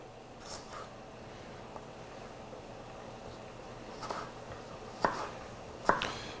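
A knife chops a jalapeno on a cutting board, with sparse, soft taps early on and two sharper, louder cuts near the end, all close and quiet against a faint room hum.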